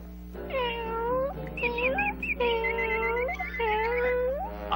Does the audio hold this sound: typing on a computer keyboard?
no